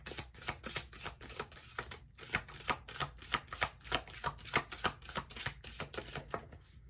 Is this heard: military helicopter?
no